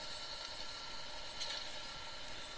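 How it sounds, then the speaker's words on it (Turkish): Helicopters running in the Call of Duty Mobile video game: a steady, faint whirring rotor-and-engine drone that holds evenly throughout, with no voices over it. "İki helikopter çalışıyor Allah'tan ya."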